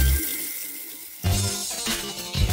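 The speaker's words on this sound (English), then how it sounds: "open the taps and let some lukewarm water run for a minute or so" Lukewarm water runs from open taps into a sink, a close, steady hiss and splash that swells partway through.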